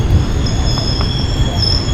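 Steady rumble of a moving train passing through a station near Nilambur, with faint high-pitched wheel squeal running continuously throughout, close and fairly loud.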